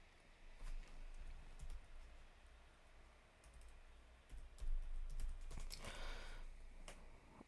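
Typing on a computer keyboard, a run of quick key taps in uneven bursts with a few sharper clicks, close and moderately quiet, no one speaking.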